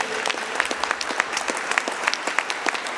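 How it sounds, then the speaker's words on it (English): A modest lecture audience claps for the security force, the individual sharp claps distinct and somewhat scattered rather than merging into a roar, close and fairly loud. "let's give them a round of applause"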